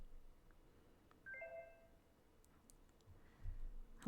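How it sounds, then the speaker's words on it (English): A short two-part chime from a phone message notification in the Otome Legends romance horror game, faint and brief against a quiet, hissy ambient background, followed by soft clicks. "It's a notification."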